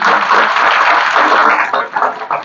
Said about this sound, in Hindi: मैं चाहूँगा एक बार अपने चांसलर साहब के लिए ताली बजा दीजिए